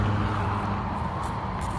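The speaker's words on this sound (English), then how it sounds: "I don't know if y'all can hear that traffic going by" Road traffic passes nearby, a soft, steady wash of vehicle noise with low rumble, fairly faint and continuous with no voices.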